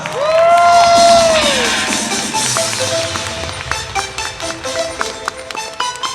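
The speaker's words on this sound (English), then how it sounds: "Give her another round of applause." A contest audience at a cosplay event cheers and whoops for a placing contestant, with a loud burst of crowd noise and shouting early that settles into scattered clapping and calls.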